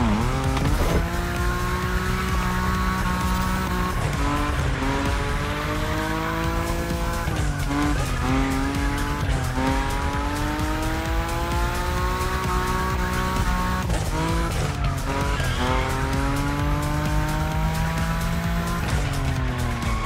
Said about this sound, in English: Your Nismo is powerful enough to slide along on its own when you're at high speed, so don't be afraid to keep your foot on the gas.